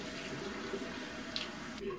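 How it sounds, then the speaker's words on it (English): Cold water running from a tap at a bathroom sink and splashed onto a face, a steady close wash of running and splashing water with a brief brighter splash partway through. "I'm gonna finish this really quickly by splashing my face with cold water"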